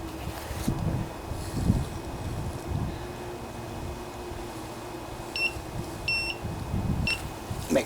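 A cheap handheld metal detector gives short high beeps in a few quick bursts while hunting for a lost hinge pin from a Briggs and Stratton Powerstroke pressure washer, over windy outdoor background noise and scattered bumps.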